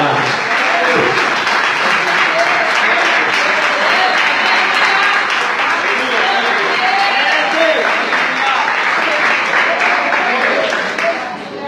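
A large church congregation claps continuously, a loud, dense roar of applause filling an indoor hall and sustained without pause until it fades at the end.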